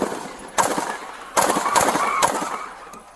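Several sharp gunshots crack out during a police shooting caught on an officer's body camera, in uneven bursts of two and three with echoing decay between them.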